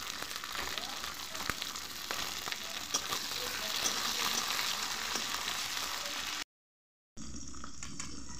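Garlic, ginger and chopped capsicum frying in a hot pan with oil for chilli chicken, a steady close sizzle with occasional stirring scrapes, then a brief cut to silence before the sizzling resumes.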